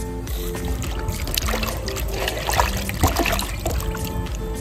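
Cut chicken meat being washed with water for a Bengali chicken curry outdoors, with close splashing, trickling and pouring in uneven bursts and no voices.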